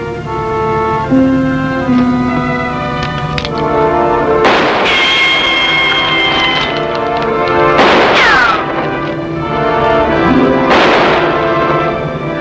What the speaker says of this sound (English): He's still firing high. He's not even trying to hit us.